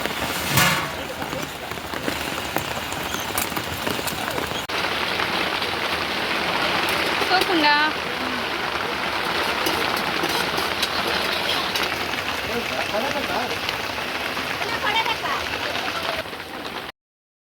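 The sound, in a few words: rain falling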